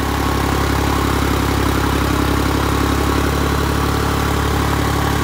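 A New Holland 3630 tractor engine runs steadily at idle or low speed, a loud, even, close diesel rumble with no change in pace and no voices.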